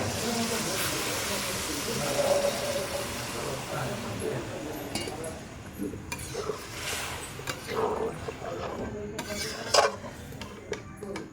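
Fried spices sizzling and hissing in a pan as water is poured in, with a steady steamy hiss and clinks of a utensil against metal, heard close.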